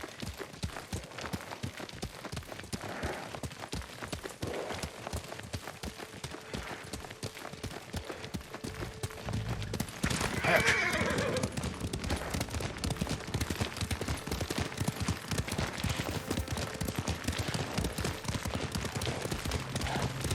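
Rapid, rhythmic hoofbeats of a galloping horse in the video game Ghost of Tsushima drum steadily throughout, growing louder midway, with faint background sounds.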